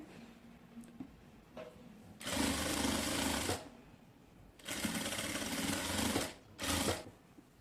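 A sewing machine stitches a fabric strip for a designer pant in three loud, sustained bursts, the longest near the start and a short final run, separated by quiet pauses with light handling.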